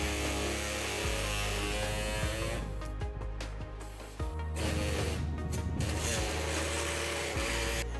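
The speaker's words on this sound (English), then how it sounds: "I will be trimming this with an air saw today." An air saw trims the heat shield on a 2019 Nissan Versa during a trailer hitch installation, a steady buzzing cut running throughout with a brief pause midway.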